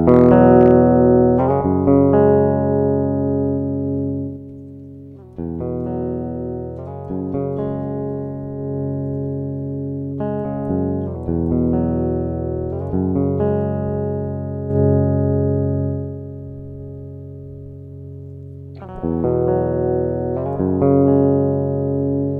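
Electric guitar on the lead pickup through a Z-Tone buffer boost, virtually reamped: clean sustained chords and single notes ring out one after another with decaying tails and brief gaps, close and unaccompanied.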